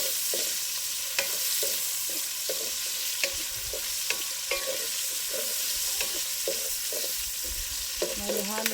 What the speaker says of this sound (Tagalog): Halo ko kasi baka masunog.